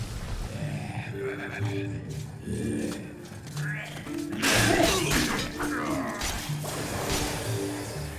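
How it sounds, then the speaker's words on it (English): In MediEvil, a club smashes down an obstruction with a loud shattering crash midway through, surrounded by grunts, rumbling game effects and scattered debris clatter. "Some obstructions can be smashed down with clubs and certain other weapons"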